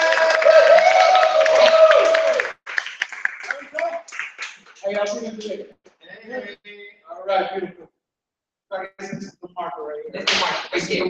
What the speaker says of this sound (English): Round of applause for Santos Taino.